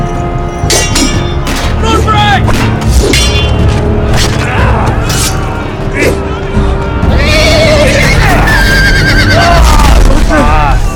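Horses whinny and neigh repeatedly in a Game of Thrones video game, loud and close, mixed with booming impacts, clinks and hoof clatter amid battle noise.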